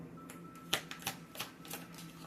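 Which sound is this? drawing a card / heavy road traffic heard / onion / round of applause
drawing a card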